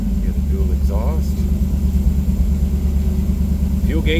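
The 312 V8 of a restored 1958 Ford Fairlane 500 Skyliner idles steadily through dual exhaust, a close, even low rumble continuing under brief bits of speech.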